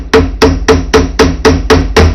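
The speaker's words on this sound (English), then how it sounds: "you're going to use the round end of the hammer, and you're just going to" A hammer's round end strikes a jewelry rivet in eight steady, evenly spaced metallic taps, close and sharp, with no talking.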